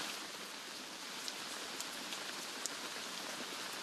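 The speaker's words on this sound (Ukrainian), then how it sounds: "На передовій задощило." Rain falling steadily on the front line in Donbas during May storms, a continuous soft hiss with occasional sharper drops, no voices.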